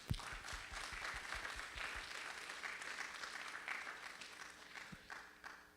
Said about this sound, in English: If you can do a round of applause, please, for all the tea volunteers today.